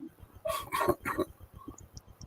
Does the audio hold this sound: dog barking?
yes